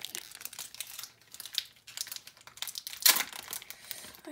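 A Pokémon Steam Siege trading card pack's foil wrapper crinkles and tears close to the microphone, with continuous rustling and a sharper rip partway through.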